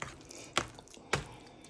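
Water added to turkey dressing during cooking, heard as two quiet, separate splashy drips or pours with a soft background between them.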